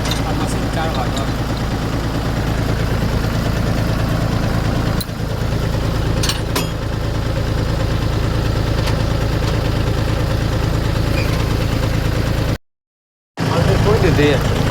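A tractor engine idles in a steady, low, throbbing rumble close by, with people talking over it throughout. The sound cuts out for about a second near the end.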